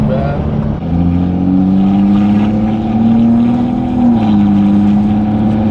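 A BMW 340i with a B58 engine, aftermarket intake and downpipe, accelerating from inside the cabin: a loud, steady engine drone rising smoothly in pitch, then dropping slightly, with a faint turbo whoosh.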